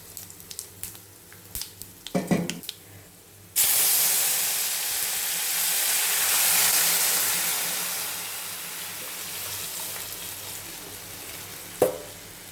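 Drumstick rasam poured into hot tempering with asafoetida, bursting into a loud, sustained hiss and sizzle after a few soft kitchen clinks, with the frying crackle slowly settling and a single clatter near the end.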